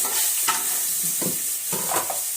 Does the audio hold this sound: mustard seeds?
yes